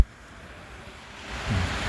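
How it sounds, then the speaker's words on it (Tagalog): Steady broadband rushing of heavy rain and wind in Tagaytay, Philippines, building slightly louder toward the end, with no voices. "Lakas ang ulan. Mahangin pati."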